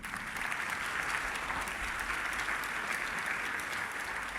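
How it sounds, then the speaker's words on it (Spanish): A congregation applauds in church for the Lord, a dense, steady wash of clapping sustained evenly from start to finish. "denle el aplauso al Señor"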